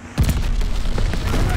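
A glide bomb explodes in a video game, a sudden deep boom followed by a rumbling, crackling aftermath under game noise.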